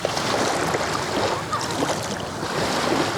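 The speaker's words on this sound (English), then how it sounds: "it's got like the tidal waves coming in, so it kind of has that splash-like effect" Ocean waves wash and splash continuously with wind rushing over the microphone, a broad steady roar with no voices.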